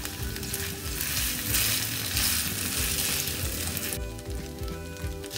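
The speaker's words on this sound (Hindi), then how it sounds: "अब इन चावलों को हम अच्छे से भून लेंगे" Rice sizzling and frying in hot oil for veg fried rice, a loud steady hiss with repeated scraping stir strokes, close up, and the sizzle drops sharply near the end.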